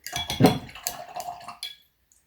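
A paintbrush swished and rinsed in a container of water, a few quick close splashy sloshes and clinks that fade out into silence.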